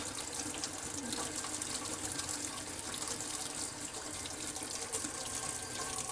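Hot water runs steadily from a kitchen sink tap during dishwashing, a continuous close splashing gush that holds for six seconds with no voices over it.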